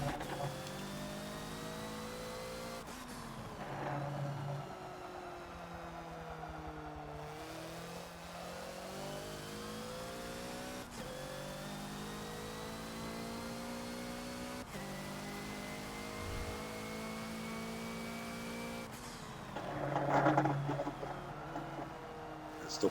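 A Hoonigan Ford Focus race car at Brands Hatch in Forza, its engine winding up in second gear with rising pitch, fading slightly before climbing again, steady and moderately loud.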